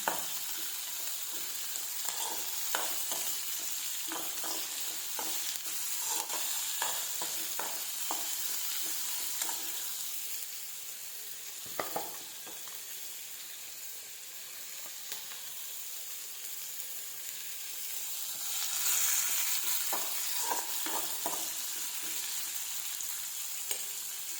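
Onions sautéing in a pan with curry leaves and green chilies for a country chicken curry, a steady hiss of frying broken by intermittent stirring scrapes and clinks across the whole stretch, no talking.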